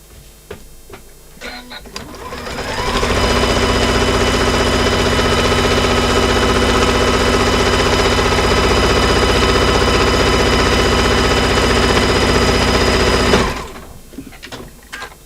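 A sewing machine stitching a fabric bag at a steady, loud, continuous buzz for about ten seconds, starting up and stopping cleanly amid quieter handling noises.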